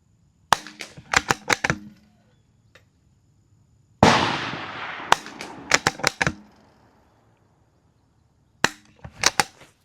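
A Savage B22 Precision rimfire rifle being zeroed fires sharp reports in quick clusters, several shots per string with pauses between, plus one louder broader blast, all near and crisp against a quiet background.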